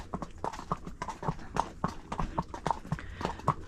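Horse hooves clip-clopping in a quick, uneven rhythm of sharp, close knocks, carrying on steadily throughout with no voices.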